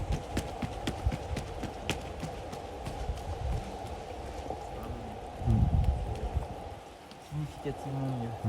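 Rain falls steadily on an outdoor running track, a continuous pattering hiss with scattered louder drops, while voices talk and footsteps sound intermittently.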